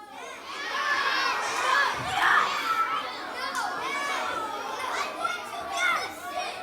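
A crowd of elementary schoolchildren shouts a school cheer alongside middle school cheerleaders in a gym-like space, loud overlapping young voices rising and falling over several seconds.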